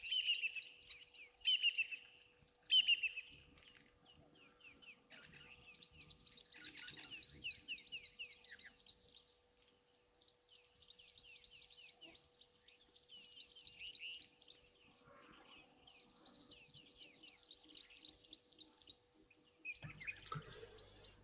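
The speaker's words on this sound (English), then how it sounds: "you can hear a lot of birds in the background," Many birds chirp and tweet continuously at a waterhole, overlapping calls at a distance in a quiet setting with a faint steady hum beneath.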